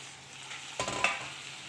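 Small, tender garden okra cooks in a pan with a soft sizzle, briefly stirred with a couple of utensil scrapes near the middle, quiet and without talk.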